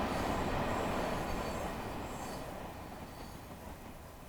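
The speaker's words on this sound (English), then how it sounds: "get the feel of the train sort of going past us." A train rumbles steadily past in an Xbox video game, a dense broadband roar with faint wheel squeal that gradually fades as it moves away, with no talking.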